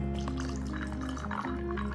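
Crown Apple whisky poured into a glass: a continuous close trickle and splash of liquid with small dripping and gurgling detail, steady throughout over a low background hum, with no one speaking.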